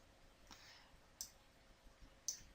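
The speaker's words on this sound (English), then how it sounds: "All I'm doing is clicking, holding and dragging the words there." A computer mouse gives a few faint, sharp clicks spaced apart while words are dragged around on screen, quiet and close with no voices.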